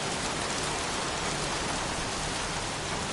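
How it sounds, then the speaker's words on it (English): Dense, steady rain falls in a video game, a constant loud hiss of drops on surfaces with no break and no talking. "won't this rain ever let up?"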